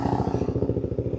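Dirt bike engine, a Suzuki DRZ400, revving close by on a mountain track with a steady rapid throbbing pulse, loud and continuous throughout.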